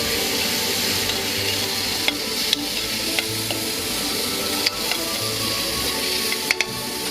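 Fresh lobster tail frying in butter in a pan, a continuous hissing sizzle with occasional sharp clicks and utensil taps, close and fairly loud.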